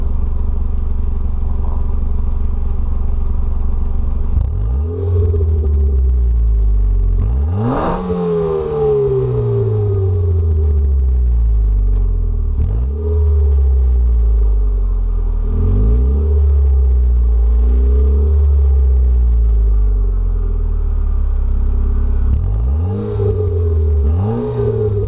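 A Ford Focus ZX3 with a muffler but no resonator revs repeatedly, each throttle blip rising sharply then falling back to a deep, loud rumbling idle, close up and without talk.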